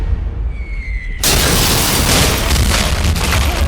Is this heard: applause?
no